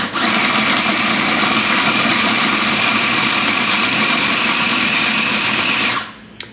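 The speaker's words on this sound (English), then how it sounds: "We're going to put it in the processor, and we're going to grind it." A food processor grinds sambal paste, a loud, steady motor whir running without a break for about six seconds before it switches off and winds down, with no voices.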